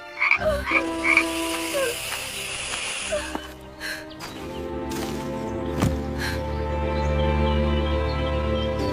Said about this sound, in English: The room filled with croaking and hissing